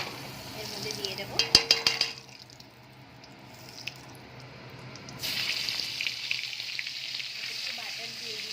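Butter goes into the hot oil left in a kadai after frying chicken, with a clink of utensils, then a sharp, crackling sizzle that quiets and flares up again into steady frying.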